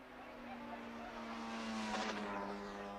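Racing motorcycles, a Yamaha and a Suzuki, at Oulton Park in the 1977 Transatlantic Challenge, their engines droning steadily and swelling as a machine passes, heard faintly under a commentator's voice.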